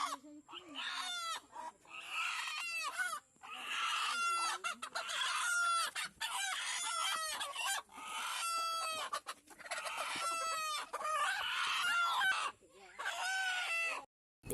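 Red desi chickens at a neighbour's house at night cluck close by in rapid bursts, with crowing calls rising among the repeated clucking and short quiet gaps between flurries.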